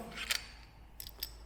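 Metal clicks and scrapes as the bolt carrier group is slid out of a 1964 AKMS rifle, with a sharp cluster of clatter early on and two lighter clicks later, close and otherwise quiet.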